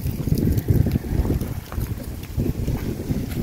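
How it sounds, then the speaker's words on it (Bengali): Strong wind gusts across open farmland plots beside a dirt road, buffeting the microphone in loud rumbling surges that rise and fall with no talk. "বাতাসের আওয়াজ, মাশাআল্লাহ"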